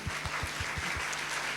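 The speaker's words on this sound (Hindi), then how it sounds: "ताली बजाइए।" A church congregation at a convention service applauds, a dense steady wash of many hands with a faint rhythmic beat of unison clapping underneath.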